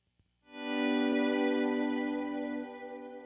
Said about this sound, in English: So like I have a shimmer reverb, which sounds like this.